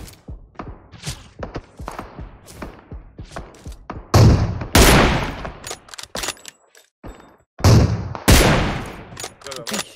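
Bursts and single shots ring out in PUBG Mobile, some distant and sharp, others close and loud with heavy booming reports, scattered irregularly across the stretch with brief quiet gaps.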